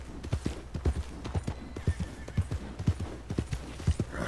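A horse's hooves beat out a fast, rhythmic galloping clip-clop in Red Dead Redemption, with deep thuds throughout and no voices.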